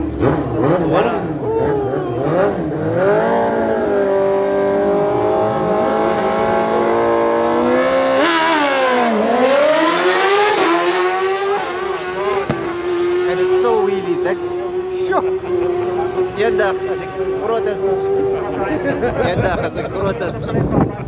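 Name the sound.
drag racing motorcycle accelerating down the strip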